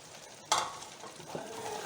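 Fresh washed fenugreek leaves drop into a pan of cooking vegetables for a spicy mixed-vegetable dish, a sudden rustling hit followed by soft sizzling and a brief scrape of stirring.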